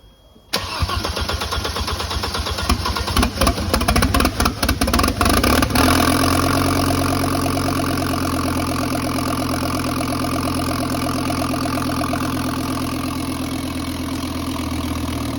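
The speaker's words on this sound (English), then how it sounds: "there's the first start up on the RS2, its new engine" A rebuilt Audi RS2 engine cranks with a burst of starter whirring, catches and fires on its first start, then settles into a steady, loud idle that holds evenly to the end.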